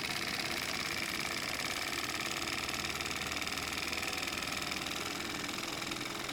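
A Mamod SP6 model steam engine runs steadily and fairly loud, a continuous mechanical whir with a fast, even chatter that holds throughout with no talking.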